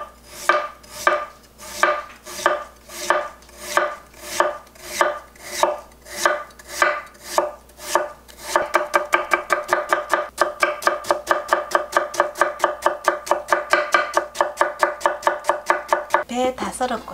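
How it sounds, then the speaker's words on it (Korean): A knife slices a pear on a cutting board while preparing Andong sikhye, starting with slow, evenly spaced cuts and then switching to rapid, continuous chopping, close and clear. "배 다 썰었고요."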